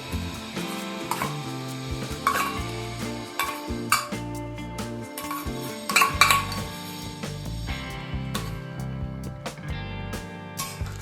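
A spoon or ladle scrapes and clinks against a metal pot while mutton curry with potatoes, fried onion and whole-spice paste is stirred, giving irregular close metallic knocks and clatters with no voice.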